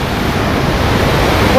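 A waterfall in the Kalanki hills of Kannur roars as a loud, constant broadband rush of falling water, heard close with no break.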